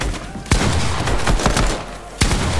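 Gunfire in Fortnite: loud, close shots crack in irregular bursts, several sharp reports in quick succession over a noisy battle background.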